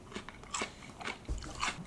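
Spicy cucumbers are bitten and chewed close up, eaten by hand in a small Japanese town, with soft wet crunches repeating in an irregular chewing rhythm, fairly quiet and with no speech.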